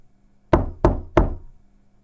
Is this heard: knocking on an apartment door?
yes